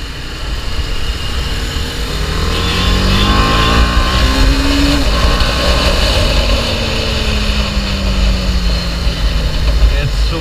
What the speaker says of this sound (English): I'm taking the RRD10 for a test ride, and let's see how it goes.